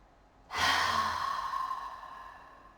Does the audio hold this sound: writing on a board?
no